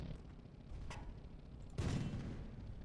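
Tank gun blasts from the Sprocket tank-design game: a sharp crack near the one-second mark, then a heavier, louder boom about two seconds in that rolls on into a low rumble, with no talking.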